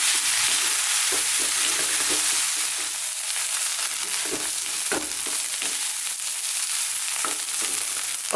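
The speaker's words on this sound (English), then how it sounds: "High heat, we're going to stir this continuously now." Chicken fried rice is stir-fried nonstop over high heat, with a loud, dense sizzle and repeated scraping strokes of the spatula against the pan, close and continuous.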